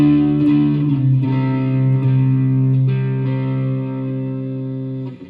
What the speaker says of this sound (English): P90 sounds pretty good.